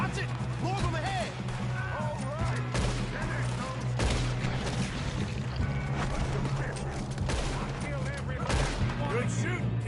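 Red Dead Redemption 2 shootout against O'Driscoll gang members: repeated loud gunshots cracking and echoing over a dense, busy game soundscape, with voices shouting in between.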